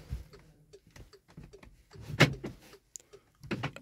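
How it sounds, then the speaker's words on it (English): Door locks on a 2008-2016 VW Tiguan actuate from the remote key, a string of short mechanical clicks and thunks from close by, ending in a louder latch clunk. "Let's unlock the door."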